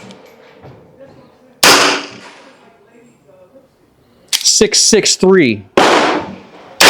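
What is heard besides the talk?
22LR pocket pistol shots with CCI high velocity rounds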